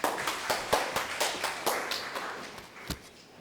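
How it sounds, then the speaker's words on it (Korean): Sparse, quiet clapping from a small seminar audience welcoming a presenter at an M&A trends session, distinct individual claps at an uneven pace that thin out toward the end. "왕태식 이사님을 박수로 맞아주시기 바랍니다."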